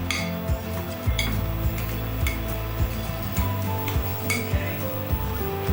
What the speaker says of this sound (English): Now continue mashing.